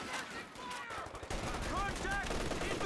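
Machine-gun fire from an MG34 in the strategy game Company of Heroes 2, a dense stream of shots and battle noise running throughout at steady loudness, busier after the first second, with no speech.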